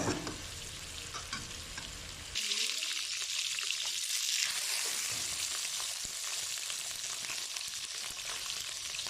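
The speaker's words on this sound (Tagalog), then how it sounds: "Ang unang gawin natin ay iprito natin ang saging" Banana slices frying in a pan of hot oil for beef estofado, a steady loud sizzle that swells at about two seconds and then holds continuously to the end with no talking.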